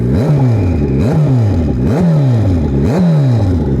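A turbocharged Suzuki Hayabusa motorcycle engine revs in repeated blips, each rising to a sharp snarl and dropping back to a rumbling idle about once a second, loud and close with no talking.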